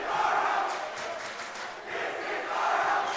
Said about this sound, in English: Henry Clay student section cheering, "This is our house."